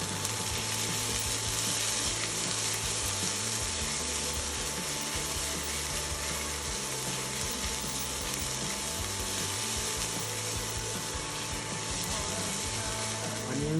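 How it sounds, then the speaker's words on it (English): Onions, garlic and chili sautéing in a pan for turkey burgers, a constant dense sizzle running evenly throughout, with a low mechanical hum and faint tone beneath it. "Onions, garlic, and chili sauteed and put aside."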